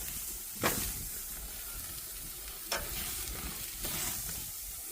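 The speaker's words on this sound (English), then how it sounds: "Put these steaks on the grill." Ribeye steaks sizzle on a hot charcoal grill, a steady close hiss broken by three brief louder bursts of spitting and scraping, with no talking.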